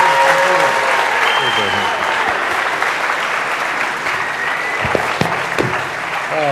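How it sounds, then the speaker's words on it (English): An audience applauds a guest speaker at a live event, with dense, sustained clapping close by for the whole stretch. A voice talks over the clapping. "please give a warm round of applause for a man who has dedicated his entire life to saving"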